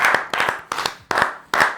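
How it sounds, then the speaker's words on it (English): A single person claps hands in five sharp, close bursts, each a quick flurry of two or three claps separated by brief pauses. "You don't want to clap"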